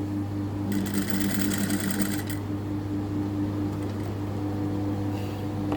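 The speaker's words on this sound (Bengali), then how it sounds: "এরপরে আমরা সেলাই করব।" A sewing machine stitches piping along a chain, a fast buzzing run of stitches in a short burst over a steady motor hum, close up.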